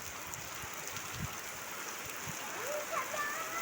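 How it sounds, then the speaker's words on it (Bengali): Steady morning rain falling outdoors, a continuous broadband hiss of drops on surfaces that swells slightly toward the end, with faint chirps or squeaks near the close. "সকাল সকাল বৃষ্টি"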